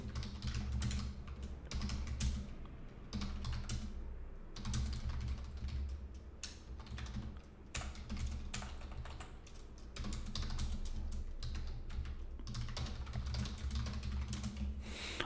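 Steady typing on a computer keyboard while writing Python code documentation, with continuous rapid key clicks over a low background hum and no talk.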